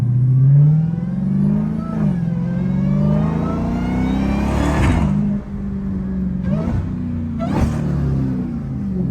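A Dodge Hellcat's engine revs loudly and close, its pitch climbing and sagging as the car accelerates, with a couple of sharp bursts near the end and no talk.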